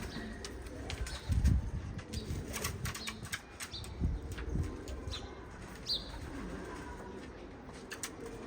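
Tumbler pigeons' wings flap and flutter repeatedly against a noisy outdoor background, with soft cooing and occasional chirps mixed in.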